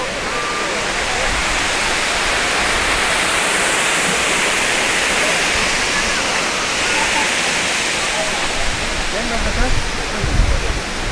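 Overflow water pours out of the full Srinivasa Sagara dam reservoir, built in 1889, after heavy rain, a loud, dense, continuous roar of cascading water filling the whole clip, with faint voices and low rumbles near the end.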